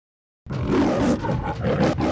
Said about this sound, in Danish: Løven brøllede stadig højt, og alle dyrene, inklusive rotterne, hørte hans brøl.